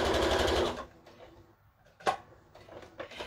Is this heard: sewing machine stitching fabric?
yes